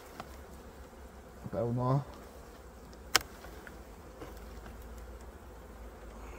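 Honey bees buzz around a hive at the end of the season, a soft steady hum with a brief louder passing drone and a sharp click, while a person speaks quietly nearby.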